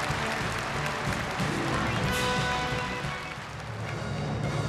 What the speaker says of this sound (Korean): 공연이 끝나자 또다시 우렁찬 만세 환호성이